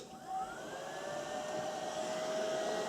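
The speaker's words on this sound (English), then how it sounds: "I'm just using a hair dryer here" A steady, whining hair dryer blows continuously nearby, with a high tonal hum over a soft airy rush.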